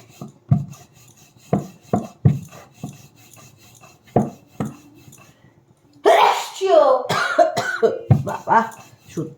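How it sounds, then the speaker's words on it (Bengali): Several short, sharp coughs break out at uneven intervals, close and fairly loud, followed by a longer rough burst of voice near the end. "সত্যি হাঁচি কাশি লেগেই আছে"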